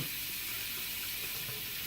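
Water gushes from a kitchen faucet in a Brooklyn kitchen, a fast, steady hiss of running flow that stays close and loud, with no talk over it.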